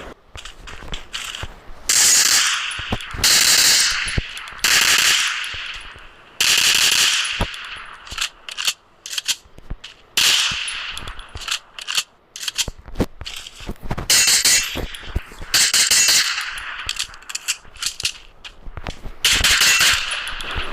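AK, Groza and G18 guns being handled and reloaded in Free Fire, heard as loud mechanical clacks, ratcheting and metallic slides in irregular bursts with short gunfire-like cracks between them, and no talk.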